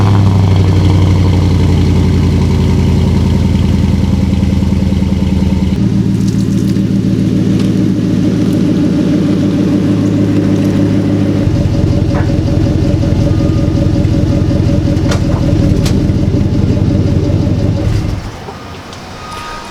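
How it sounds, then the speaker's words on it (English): A truck's engine cold-starts at 80 degrees and settles into a loud, steady exhaust idle with shifting tones, cut off near the end. "we'll give you a little quick 80-degree cold start on the exhaust"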